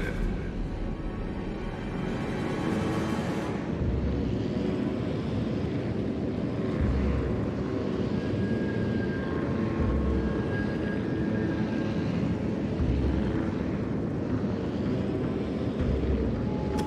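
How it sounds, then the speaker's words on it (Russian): Fighter plane from a Shokaku carrier returning to its ship in a World of Warships naval battle, a steady droning engine roar lasting throughout amid continuous battle rumble, fairly loud with no speech. "Истребитель, возвращаюсь на корабль."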